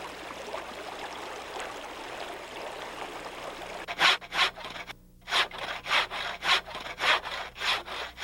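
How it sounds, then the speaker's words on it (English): Wood is cut with a hand saw outdoors by a creek in freezing weather, the strokes starting midway as loud, regular rasps with a short pause, over a steady murmur of running water. "Today, I would cut wood to build up my supply."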